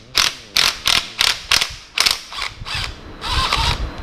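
A socket wrench ratchet clicks in several quick bursts of near, loud ratcheting while loosening a paint-covered bolt on a Morris Minor engine, then the clicks blur into a longer, steadier run.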